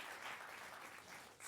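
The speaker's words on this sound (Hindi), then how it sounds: "जोरदार तालियों के साथ आपका हम स्वागत करते हैं।" Studio audience applauding to welcome guests on a Hindi television debate show, a dense wash of clapping heard faint and steady throughout, with no talking over it.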